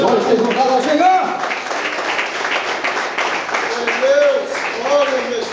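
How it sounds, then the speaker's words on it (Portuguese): Church congregation applauding during a sermon, clapping under loud overlapping voices and cheering throughout. "Palmas para o Senhor Jesus."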